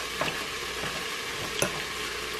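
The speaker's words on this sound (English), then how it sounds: "I like to stir it around first to make sure it gets even." Garlic, fresh basil and meatball mixture stirred in an Instant Pot, a soft continuous scraping and shuffling with a sharper clink or scrape partway through, close by with no talking.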